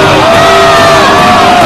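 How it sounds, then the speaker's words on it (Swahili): Loud crowd cheering and yelling at a contest in an episode of Mission Troops, a dense sustained roar of voices with shouts rising throughout. "Watu wanashangilia bala."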